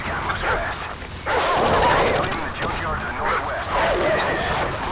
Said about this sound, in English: I died here because of the dogs.